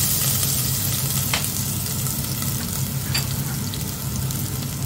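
Garlic sizzles in hot olive oil, a loud, steady hiss and crackle heard up close, with a couple of faint stirring scrapes.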